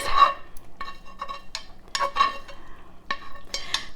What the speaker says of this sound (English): So I'm adding the peppers and the onions.